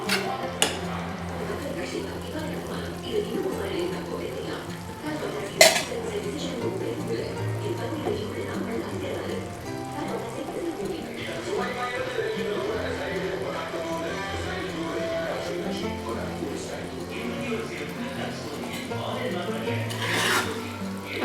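Egg masala is stirred in a pan with steady scraping and rubbing of a utensil against the metal, a few sharper clinks along the way, and someone talking over it throughout.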